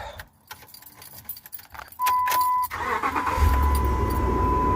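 A 2007 Ram pickup's 5.7-liter Hemi V8, freshly fitted with a new starter, cranks briefly and fires up, then settles into a steady, close idle after a jangle of keys.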